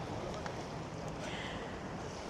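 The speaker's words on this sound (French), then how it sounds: "Ça bouge, il y a du vent." Wind blows outdoors in a steady, moderately loud rush against the microphone, with faint shifting gusts and no clear speech.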